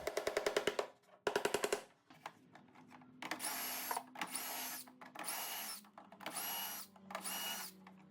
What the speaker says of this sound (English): I drilled adjustable shelf pin holes for the other shelves